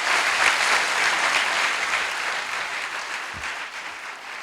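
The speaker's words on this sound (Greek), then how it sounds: "Ένα μεγάλο χειροκρότημα στη Μαρίνα." Audience applause for Marina at a Greek live show, a steady dense wash of many hands clapping that fades slightly toward the end, with no talk over it.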